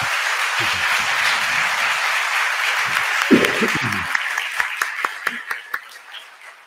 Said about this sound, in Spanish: les pido un fuerte aplauso para recibirlo y darle la bienvenida